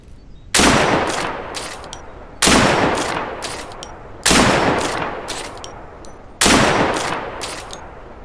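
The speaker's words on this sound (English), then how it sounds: "And then the S85, the beginner's secret weapon." Four evenly spaced S85 sniper rifle shots in the video game Deadside, each a sharp loud crack with a long decaying echo, about two seconds apart, no talk.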